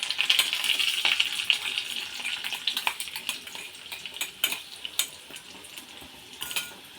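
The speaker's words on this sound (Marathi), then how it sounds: "जिरं तड की मग यामध्ये आपण कोथिंबीर टाकणार आहोत आणि हा वाटलेला मसाला टाकायचा यामध्ये" Ground masala and coriander leaves go into a cumin tempering and fry, a steady close sizzle with ladle scrapes and stirring clinks against the pan running throughout, no voices.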